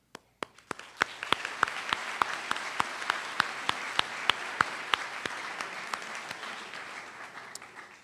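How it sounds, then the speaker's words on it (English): Audience applause fills a senior awards ceremony, starting with a few scattered sharp claps and swelling into steady sustained clapping that holds for several seconds before beginning to thin, with no voices over it. "We are gathered here together, and we applaud their great work."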